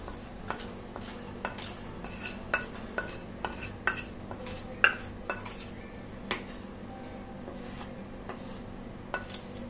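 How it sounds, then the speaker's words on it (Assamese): Hot gram flour (besan) goes into a bell-metal plate with a steady run of close metallic clinks and scrapes, about one a second, over a soft background hum. "ইয়াত লৈছোঁ এখন কাঁহী লৈ এতিয়া মই বেচনখিনি ইয়াতে ঢালি দিছোঁ"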